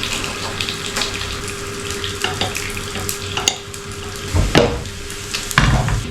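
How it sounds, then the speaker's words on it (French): Slices of chorizo crisp in a frying pan under a steady sizzle, broken by stirring knocks and louder clattering bursts near the end. "un bon petit morceau de chorizo qu'on va tout de suite découper en tranches. Et qu'on va venir faire chipser dans notre poêle"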